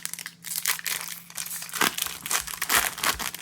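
A Pokémon card booster pack wrapper is torn open up close, giving a continuous loud crinkling and ripping of foil plastic for several seconds.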